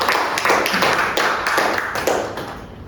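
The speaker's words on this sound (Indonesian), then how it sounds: "kita berikan tepuk tangan yang meriah kepada Ibu Ria kita" Applause from an audience at a school gathering: a few clapping hands in loose, uneven bursts, close and fairly loud, fading slightly toward the end.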